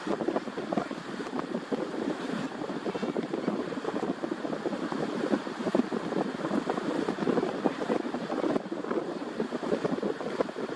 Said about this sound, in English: with the wind is it's going to block out some of the sound that I would like to have you hear